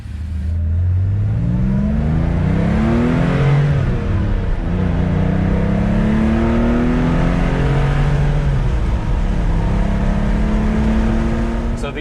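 A 1976-77 Porsche 911 Carrera 3.0 drives and accelerates, its engine rising in pitch through gears with a steady, loud drone heard from inside the car.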